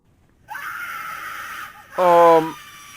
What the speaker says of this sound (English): But only a scream came out as a reply.